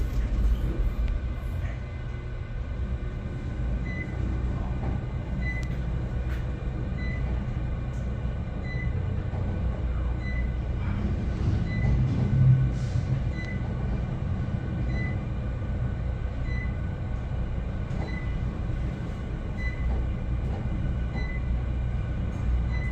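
A 1992 Otis Elevonic 411 traction elevator travels between floors with a steady low rumble and faint mechanical whine, a constant moderate hum inside the car with a few soft clicks.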